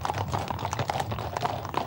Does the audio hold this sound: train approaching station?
no